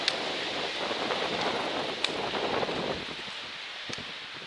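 Strong wind buffets the open summit of a White Mountains hiking trail, a steady broadband roar with a few sharp gust thumps against the microphone and no talking.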